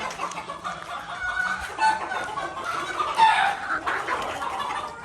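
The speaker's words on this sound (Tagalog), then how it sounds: "yung aking mga alagang manok" Pet chickens on a farm in Zambales clucking in short, overlapping bursts nearby, with a few louder squawks, busy and continuous, no voices.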